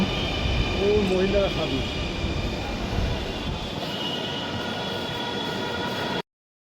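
A metro rail train arriving at a station rumbles and roars up close, with a brief wheel squeal early on before the noise eases, and voices are heard over it.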